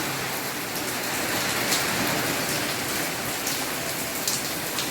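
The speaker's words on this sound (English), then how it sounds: "So how about that rain?" Steady, dense rain falls in Puerto Morelos, Mexico, a constant close hiss with scattered drops hitting surfaces and no talking over it.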